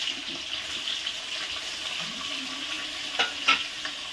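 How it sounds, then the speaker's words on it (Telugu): Onions, tomatoes and green chillies fry in a pan with a soft continuous sizzle, broken by a few sharper scrapes and clinks of stirring near the end. "టమాటాలు, పచ్చిమిరపకాయలు ఇవన్నీ వేయించుకోవాలండి"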